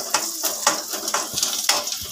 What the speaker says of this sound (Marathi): परत एकदा ढवळते.